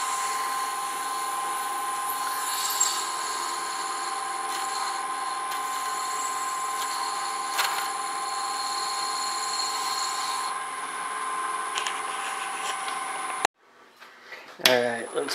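A mini baseball bat spinning on a wood lathe hums continuously while sandpaper works through the grits, a steady whirring drone that cuts off near the end, followed by brief handling noises.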